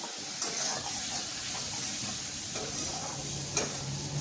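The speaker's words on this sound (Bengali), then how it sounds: "হলুদ গুঁড়ো, জিরে গুঁড়ো, নুন, চিনি, সব একসঙ্গে সুন্দর করে কষে নিতে হবে" Turmeric, cumin powder, chili powder, salt and sugar fry together in oil for a Bengali fish curry, giving a continuous close sizzle and hiss with occasional soft stirring scrapes and small spatula taps.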